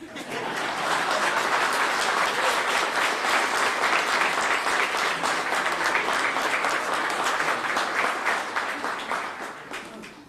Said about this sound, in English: You guys can clap now.